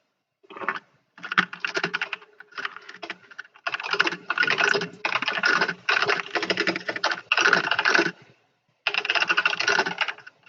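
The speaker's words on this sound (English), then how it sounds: "That's a really loud typing you got there." Loud, rapid keyboard typing clatters in dense bursts separated by short pauses, close and with no one speaking.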